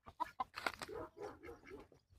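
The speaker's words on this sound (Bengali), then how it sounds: "এইগুলো হচ্ছে টার্কি মুরগি" Turkeys on a farm in Saudi Arabia, kept among date palms, give a few close, quick clucks followed by a softer run of burbling gobbles; no one is talking.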